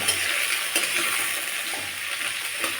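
Vegetables frying briefly in a pan for khichuri: a steady, close, bright sizzle with faint crackles and light stirring, no voices.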